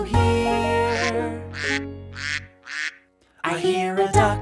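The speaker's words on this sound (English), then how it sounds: "I hear a duck, duck, duck, duck, duck." Cartoonish duck quacks in a children's nursery song: a series of four evenly spaced quacks over a sustained musical chord, then a brief pause before the music and more quacking resume.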